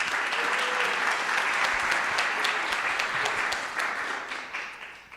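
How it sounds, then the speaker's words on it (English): A large crowd applauds steadily with dense, continuous clapping that gradually thins and fades toward the end. "Okay, so everyone give Michele a warm round of applause."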